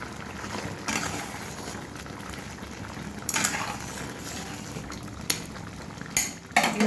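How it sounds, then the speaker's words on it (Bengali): Crab curry being stirred in a pot with fried spices, scattered metallic scrapes and clanks of a utensil against cookware over a soft sizzling background, with a few louder knocks toward the end. "এবারে ঢাকনাটা খুলে নেড়ে দেব"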